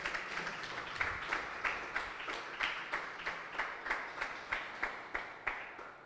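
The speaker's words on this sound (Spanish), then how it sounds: "Le puedo dar un aplauso al Señor en esta hora." Church congregation clapping in a steady, unison rhythm, about two claps per second, moderately distant and reverberant, continuing evenly without voices.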